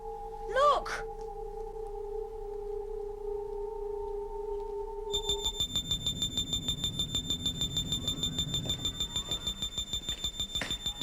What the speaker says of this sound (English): It's the intruder alarm.